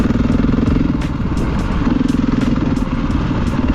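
A KTM 500 EXC dirt bike engine runs steadily in third gear, a loud, close, continuous throbbing drone with a rough, slightly fluttering tone throughout.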